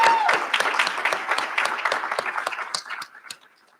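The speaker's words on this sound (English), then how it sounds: "Please give yourself a round of applause." Applause from the class of 2021 at a college graduation recognition ceremony, lively clapping from a modest crowd that gradually thins into scattered claps and dies away.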